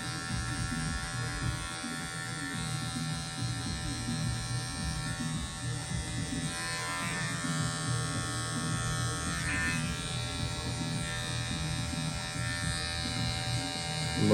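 Electric hair clippers buzz steadily at close range during a classic taper fade haircut with a 3 millimeter guard, the hum wavering in pitch as the blades move through hair.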